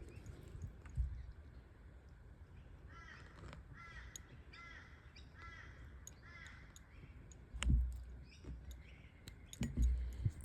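Crows caw in a run of repeated calls at a moderate distance over quiet outdoor background, with a few low thumps and handling knocks nearby.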